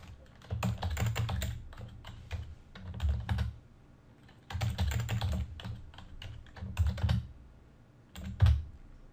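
Fingers type on a computer keyboard to enter a server password: bursts of quick, close key clicks with soft thumps, pausing between groups, no talk.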